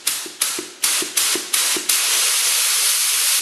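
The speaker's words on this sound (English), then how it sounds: "So I have my gun, I have my air hooked up, and I'm going to close the air valve all the way." Compressed air bursts from a paint spray gun in six quick pulses as the trigger is pulled, then settles into a steady loud hiss once the air valve is opened.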